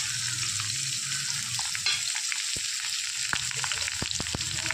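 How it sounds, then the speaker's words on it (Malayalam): Dried red chilies and coriander seeds fry in hot coconut oil for a Kerala-style small-onion curry, with a dense, steady sizzle up close and occasional light pops and clicks of the seeds and stirring. "മല്ലിയൊക്കെ പൊട്ടി വരാൻ തുടങ്ങിയിട്ടുണ്ട്. മുളക് നന്നായിട്ട് ചൂടായി വരാൻ തുടങ്ങിയിട്ടുണ്ട്."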